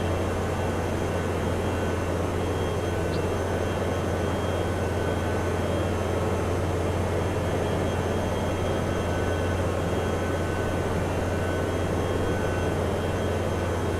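Steady engine drone of a powered parachute in flight in Microsoft Flight Simulator 2024, a constant even hum with no breaks, continuous and moderately loud throughout.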